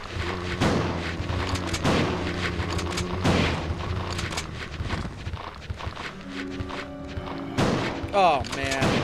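Shotgun blasts in Resident Evil 2 while fighting zombies, several heavy booming shots spaced a couple of seconds apart, each with a ringing tail, over dark game ambience and mechanical reload clatter.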